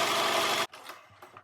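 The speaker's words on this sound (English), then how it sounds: "Then I'll take it to my sewing machine and stitch from here down to here." A sewing machine stitches folded fabric in a fast, loud burst of whirring needle strokes lasting about half a second, then stops abruptly, leaving quiet handling noise.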